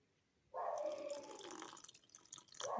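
Water poured from a container into chickpea flour in a mixing bowl, a close, steady liquid pour lasting about two seconds, then briefly trailing off and resuming.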